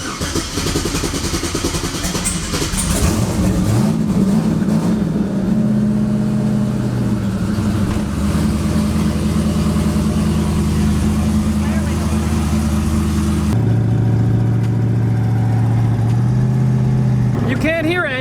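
A twin-turbo Ford Mustang Fox Body engine catches and roars, then revs loudly and holds a rough, throbbing idle at close range, with its pitch stepping up and down as the throttle is blipped.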